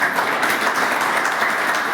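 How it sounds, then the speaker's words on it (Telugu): A church congregation claps together during a sermon, a brief, steady burst of many hands applauding at close range. "చప్పట్లు కొట్టండి"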